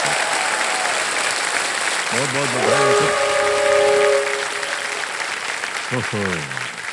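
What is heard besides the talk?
TV studio audience applause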